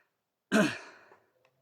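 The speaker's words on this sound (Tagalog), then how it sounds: "Yan na, hinihingal pa tayo mga idol." A single heavy, breathy exhale close to the microphone from someone out of breath in hot weather. It is one sharp burst that trails off within about a second.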